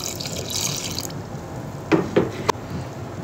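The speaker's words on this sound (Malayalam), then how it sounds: "ഇതിലോട്ട് മിക്സിൻ്റെ ജാറിൽ കുറച്ച് വെള്ളം കൂടി വയ്ക്കണം" Water poured from a mixer jar into a cooking pot with a ground spice paste: a soft, brief wash of splashing liquid, then a few small splashes and clinks, with no talk.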